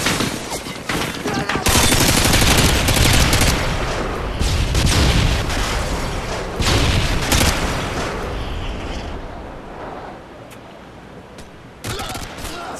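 Explosions and dense gunfire from a search-and-destroy round in the Highrise map of a first-person shooter, where a planted bomb destroys the objective; loud, sustained bursts of blasts and shots fill the clip, easing off near the end, with brief game voice lines.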